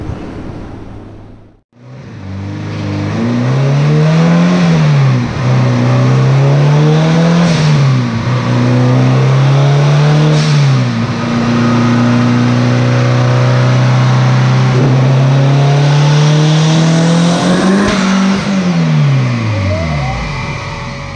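A turbocharged GSR-swapped Honda Civic engine revs hard on a dyno, loud and close, its pitch climbing and dipping in repeated surges before a long sustained high-rpm pull that winds down at the end.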